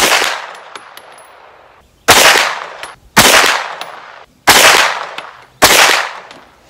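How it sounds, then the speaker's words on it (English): A Polymer 80 (P80) rifle with an AAC suppressor fires at 50 yards, starting with a cold bore shot: five loud, sharp, close reports about a second apart, each trailing off into a short decay. "the cold bore shot"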